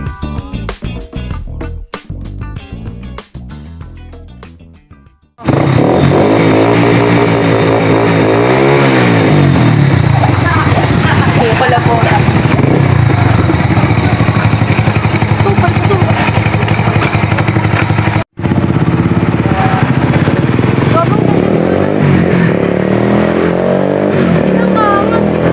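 Motorcycle fitted with a new open pipe exhaust, loud and close, revving hard through a sustained roar after a few sharp throttle blips, with one brief cutout near the end.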